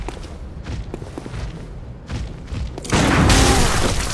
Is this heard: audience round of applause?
no